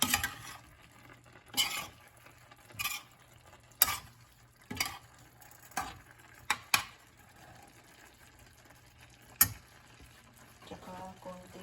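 Spoon stirring igado, a Filipino pork and liver dish, in a pan: sharp scraping knocks come at irregular intervals over a faint background hiss, with no talk.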